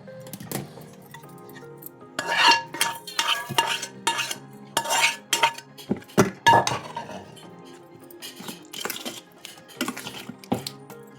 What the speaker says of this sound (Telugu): ఇదంతా స్టీల్ బౌల్లోకి షిఫ్ట్ చేసేస్తాం.